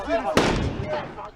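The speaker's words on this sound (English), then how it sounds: "They end the video on the gunshot." A single loud gunshot cracks at the close of a video being played back, a sharp burst followed by a short decaying tail, with voices talking around it.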